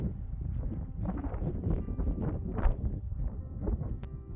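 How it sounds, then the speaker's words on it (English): Gusty desert wind buffeting close to the microphone, a continuous rough low roar rising and falling in strength. "I just wanted to show you guys how windy it had become"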